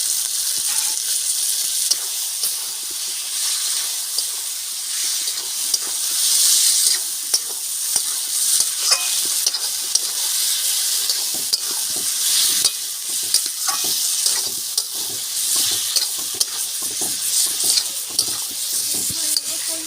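Katla fish curry with small potatoes cooks in a pan just after water is added, with a loud, continuous hissing sizzle and steam plus frequent stirring clicks and scrapes, close up and without talk.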